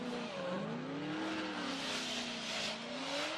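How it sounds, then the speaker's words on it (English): A turbocharged BMW V8 drift car at a Formula Drift event in New Jersey, its engine howling with shifting pitch as tires scrub through a feint initiation, loud and continuous with crowd-like ambience. "A little feint initiation by Mordaunt."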